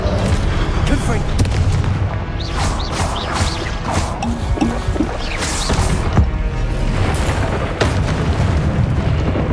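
A Confringo explosive spell goes off during a Hogwarts Legacy fight, mixed into a steady, busy din of crashes, booms and battle effects, with a voice calling out spells over it.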